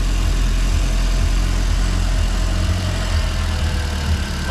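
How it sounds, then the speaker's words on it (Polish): A 1.8 Turbo car engine idles at raised revs while warming up after a cold start, a loud, steady, close-up drone with a continuous low rumble and no voices. "Kurka odpaliła, może być trochę głośno, bo ma podniesione obroty, bo się grzeje."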